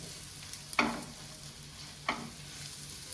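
Ground spice masala fries in a pan for a bread cutlet, a low steady sizzle broken by two sharp scraping stirs of a spoon against the pan.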